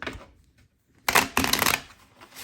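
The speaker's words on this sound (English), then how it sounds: "Let's start off with this shuffle." Tarot cards are shuffled by hand in a quiet room, with a faint start and then two short, crisp riffling bursts close to the mic.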